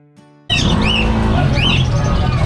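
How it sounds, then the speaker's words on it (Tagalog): Parakeets chirp and squawk in a dense, loud chorus at a Grotto pet market, many birds calling at once with rising and falling whistles after a brief quiet start. "ang dami na naman pong ibon ni Tatay Rolling ngayon mga kapatid"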